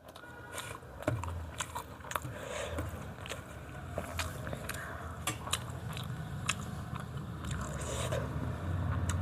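Close biting and chewing of chicken momo dipped in chutney, with repeated soft crunches, wet squishes and crisp clicks running steadily and loud throughout, with no talking.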